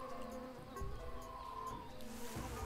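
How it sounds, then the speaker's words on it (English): Buzzing insects fill a jungle scene in the Tales of Monkey Island video game, with continuous overlapping drones and whines, steady and fairly close, with no voices. "That jungle sure is noisy."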